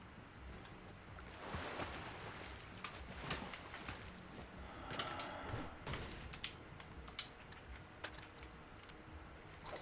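Ocean waves in Fortnite wash and surge in irregular bursts, with a soft wind-like hiss and occasional brief splashes, fairly quiet with no voices.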